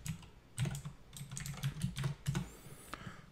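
Quick bursts of keystrokes on a computer keyboard as a password is entered, a close, fairly quiet run of clicks with brief pauses and no talking.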